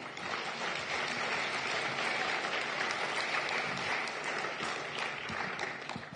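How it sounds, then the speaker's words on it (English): Sustained applause from a large audience for panel speakers at a security conference fills the whole stretch, steady and dense, with no speech over it. "maybe we give a round of applause to the speakers"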